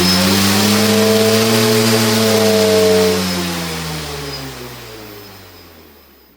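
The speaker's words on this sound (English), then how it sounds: "As you can see, the motor works, the propeller, everything works." An electric motor spins the propeller of a model aircraft project, a steady close-up whine with layered tones that hold for about three seconds, then slide lower and fade as the motor winds down.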